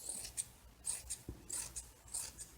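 Scissors snip through fabric being cut for a tree skirt, a series of short crisp close-up cuts spaced irregularly with no talking.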